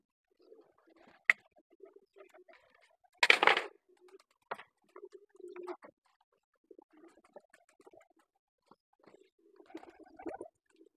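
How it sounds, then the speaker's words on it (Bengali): Pigeons in a loft feeding their chicks, soft intermittent cooing and low murmurs with a few wing flutters and scuffles, one louder flapping burst, all faint and close within a quiet space. "বাচ্চাকে খাওয়াচ্ছে অনেক কবুতর"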